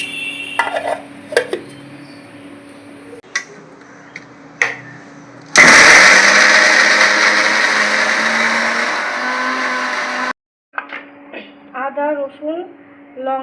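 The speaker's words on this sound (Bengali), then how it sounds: "লঙ্কা পেঁয়াজ কুচিটা আমরা তেলে ছাড়বো এবার মিক্সি করে নেব" An electric mixer grinder whirs loudly for about five seconds while it grinds chilli, garlic and onion into a paste for a mutton curry. Scattered kitchen clicks and knocks come before and after.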